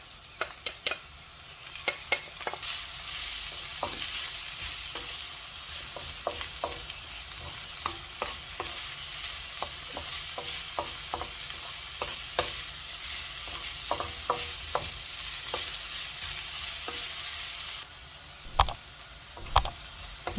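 Garlic and ginger sizzle steadily in hot oil in a pan, a loud continuous frying hiss broken by frequent clicks and scrapes of a spoon stirring, with no voices.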